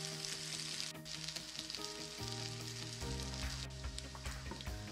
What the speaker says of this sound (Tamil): நல்லா மொறு மொறுன்னு வர வரைக்கும் ஃப்ரை பண்ணி எடுத்துக்கோங்க